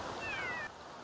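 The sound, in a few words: cats yowling in the Sims 3 video game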